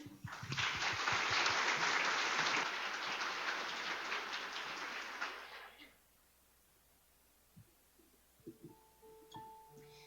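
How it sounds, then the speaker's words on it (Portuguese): Church congregation applauding during a Sunday morning service, a dense, loud wash of clapping that fades out after about six seconds, leaving near silence with faint stray sounds. "Aplausos."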